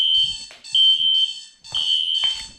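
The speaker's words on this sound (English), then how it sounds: "now I'm going to plug in the SpectrAlert" A System Sensor SpectrAlert Classic P1224MC fire alarm set to low volume sounds a loud, shrill, steady electronic tone in long bursts, broken by brief gaps and quiet clicks.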